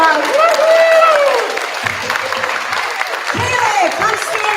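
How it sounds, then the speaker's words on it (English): At a fifth-grade chorus spring concert, a crowd applauds with steady clapping and cheering while voices talk and whoop over it, fairly loud and close. "give yourself a round of applause"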